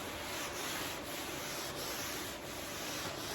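Body filler on a C10 show truck hood being sanded with 80 grit paper, a steady close scratchy rubbing with faint rhythmic strokes, continuous and without speech.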